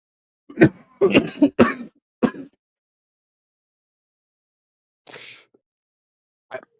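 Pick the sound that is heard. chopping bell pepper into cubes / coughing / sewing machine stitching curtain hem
coughing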